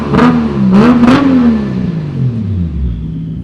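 A 1995 Nissan Skyline R33 GTR V-spec with Tomei and HKS parts revs on a dyno, the engine note rising and falling through a few loud, close blips before sliding down into a fading low drone.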